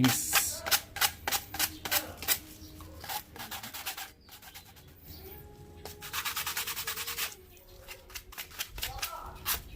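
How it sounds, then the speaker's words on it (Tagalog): PVC pipe ends sanded by hand, a series of quick rhythmic scraping strokes in bursts with brief pauses between, close and fairly crisp. "lihain yung mga dulo para kuminis"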